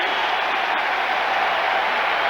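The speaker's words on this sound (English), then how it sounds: "Crowd loves his effort." A big stadium crowd at a 1991 NFL football game between the San Francisco 49ers and Philadelphia Eagles roars and applauds in a dense, steady wash of cheering that holds at full volume throughout.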